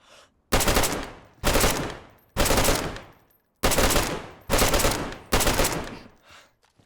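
Six bursts of automatic gunfire from the DayZ video game, each a sharp rapid rattle lasting under a second and then trailing off, spaced by short gaps, loud and close with no talk over it.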